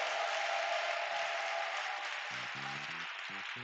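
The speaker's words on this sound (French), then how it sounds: "Si tu es content, acclame Jésus-Christ très fort" A church congregation applauds and cheers for Jesus Christ in a steady, broad wash of clapping throughout, with brief low musical or voice tones joining near the end.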